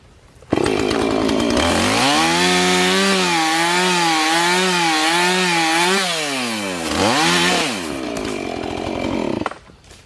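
A chainsaw cuts a tree limb: the engine revs up sharply, then bogs and rises in wavering pitch as it bites into the wood, drops briefly, revs again, then cuts off. Loud and close throughout.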